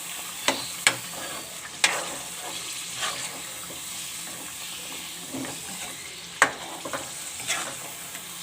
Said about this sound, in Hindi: दही डाल के इसको अच्छी तरह से भूनेंगे